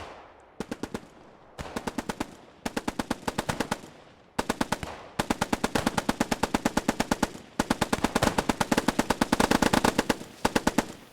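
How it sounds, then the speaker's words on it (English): Machine guns hammer away in the WWII game Post Scriptum, long rapid bursts of evenly spaced shots separated by short pauses, loud and close, continuing for the whole stretch with no talking. "You also got the machine guns behind us."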